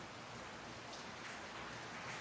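Steady rain falls outdoors during a rescue effort, a constant hiss of drops on surfaces with no pauses, even and fairly faint, with no voices.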